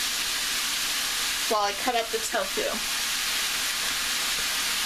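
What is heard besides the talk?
vegetables steaming in covered pan with black bean sauce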